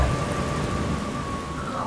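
Rain pours steadily outside at night, a dense continuous hiss with a low thundery rumble underneath, loud and unbroken throughout.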